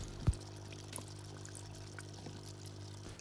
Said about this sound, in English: it's running, bubbles flying nicely out the top, aerating the water and sucking in the water to be filtered